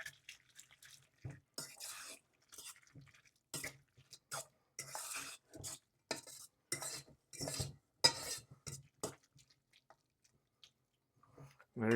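Drained noodles being stirred and tossed together for Taiwanese spicy noodles, a series of short, close scraping and squelching bursts in an irregular rhythm separated by near-silent gaps, with no voices.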